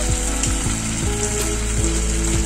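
A malai kofta ball frying in hot oil, a loud continuous sizzle with a repeating mechanical ratcheting hum running beneath it, close up and without speech.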